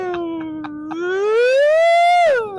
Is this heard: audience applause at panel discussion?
no